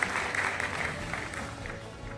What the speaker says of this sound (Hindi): एक जोरदार तालियों के साथ हम सब कुछ लोगों का स्वागत करना चाहिए